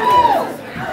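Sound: crowd cheering for the band's bass player at a live show

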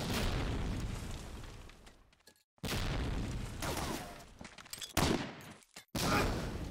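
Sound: grenade explosions in the video game Medal of Honor: Allied Assault

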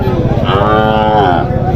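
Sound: heifers mooing at a cattle market

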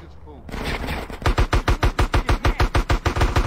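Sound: gunfire in video game Grand Theft Auto San Andreas

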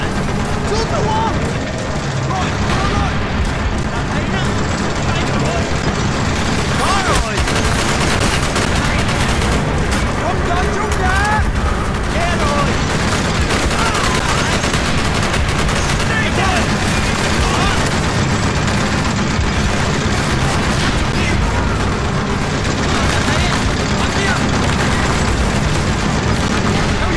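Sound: gunfire in video game Call of Duty: Black Ops

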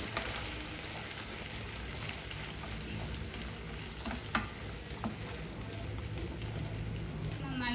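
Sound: egg being mixed into chilli sauce in a frying pan

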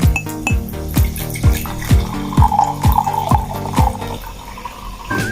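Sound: soda water being poured into a glass

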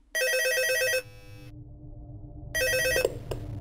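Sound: telephone ringing in video game Gmod Murder

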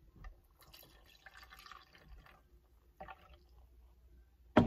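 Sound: pouring hot soapy water into a cup

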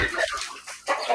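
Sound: chickens clucking

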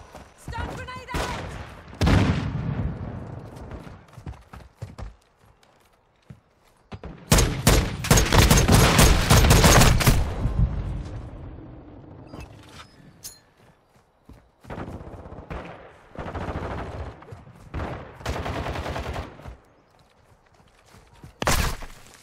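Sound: gunfire in the video game Modern Warfare 2

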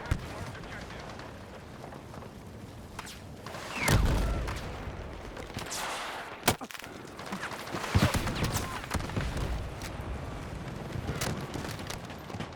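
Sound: gunfire in the video game Battlefield 6

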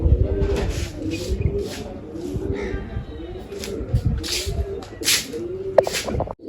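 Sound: pigeons cooing while being fed grain

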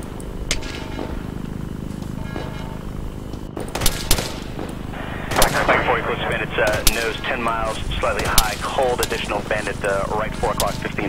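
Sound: gunfire in the video game Arma 3

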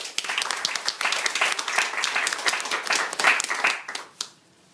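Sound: audience applause at a seminar

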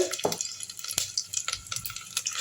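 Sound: pepper, cumin and ginger frying in ghee

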